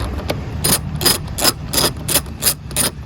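A ratchet wrench loosens 8mm screws on the engine air filter cover of an Acura ZDX, making a quick series of close, crisp clicking bursts in an uneven rhythm, about eight strokes, with no talking.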